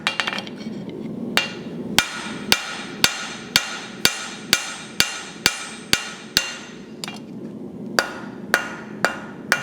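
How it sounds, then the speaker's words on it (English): A blacksmith's hammer forging a taper on the end of a hot steel bar, with a steady series of ringing metallic strikes about every half second over a low rumble, close and loud with no speech. "So we're just going to forge the end of the taper."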